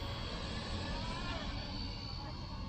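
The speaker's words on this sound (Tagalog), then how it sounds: "kasi nga brushless motor, malakas" An XK K170 Black Hawk UH-60L RC helicopter with a brushless motor runs in a steady, loud whir with broad rotor noise, held constant throughout and close by.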